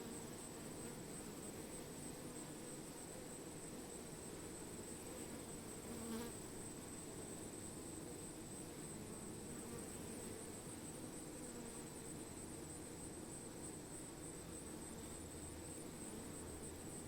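Close, steady drone of many honey bees buzzing around an open Langstroth hive during an inspection, a dense continuous hum with no talking.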